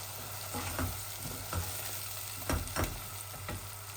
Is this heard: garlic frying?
yes